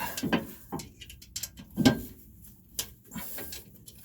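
Ratchet working a bolt through dirty threads during an airbag install on a Ram 3500, short uneven bursts of clicking and grinding with pauses between partial turns, close but fairly quiet.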